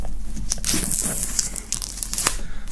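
Plastic shrink-wrap film crinkles and tears as it is pulled off a black collector's box, a close, continuous crackling with sharper rips throughout.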